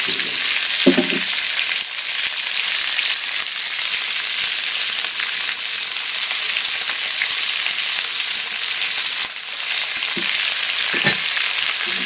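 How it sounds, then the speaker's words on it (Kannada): Onions frying steadily in a pan for tamarind rice, a loud, even crackling sizzle throughout with a few soft scrapes of stirring and no talking. "ಇವಾಗ ಈರುಳ್ಳಿನ ಒಂದು ಅರ್ಧ ಚೆನ್ನಾಗಿ ಫ್ರೈ ಮಾಡ್ಕೋಬೇಕು"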